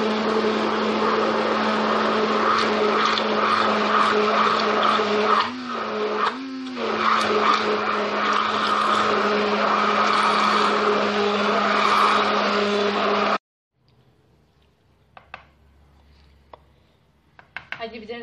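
Electric mixer whirring loudly and steadily through vegetable pancake batter, with two short dips in speed midway, before stopping abruptly and leaving faint kitchen clatter.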